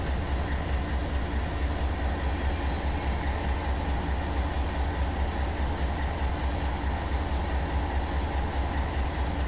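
A steady, continuous rumble of a BNSF freight train rolling past in the Run 8 train simulator game, with engine drone and rail noise holding constant throughout, no voices.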